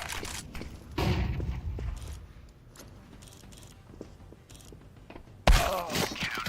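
A flashbang grenade goes off in a video game with a sudden loud burst near the end, following an earlier heavy thump and scattered clicks and clatter.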